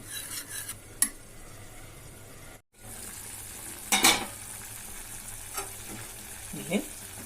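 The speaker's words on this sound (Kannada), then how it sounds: "ಒಮ್ಮೆ ಸೌಟಿಲಿ ಹಿಂಗೆ ತಿರುಕೊಂಡ್ರೆ ಹಣ್ಣಾಗಿ ಚಲೋ ಆಗ್ತದೆ" A ladle stirring cooked mango and dal in a pot: soft scraping strokes and a few clinks over a faint sizzle, quiet and close.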